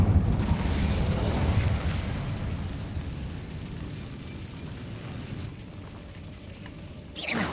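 The Incendio fire spell cast in Hogwarts Legacy makes a loud roaring whoosh of flame that swells at first and then slowly dies away, ending with a short burst after a near-silent gap.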